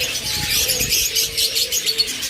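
Pet birds for sale in pairs, yellow and blue, twitter in quick, bright chirps over a few seconds, close and fairly loud, with soft flutter and no talking.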